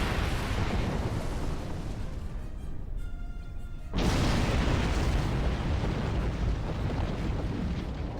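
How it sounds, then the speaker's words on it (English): A player's starship explodes in Star Trek Online, a loud broadband roar that dips briefly before a heavy burst near the four-second mark, then sustained rumbling debris noise. "So I destroyed that thing and I got blown up."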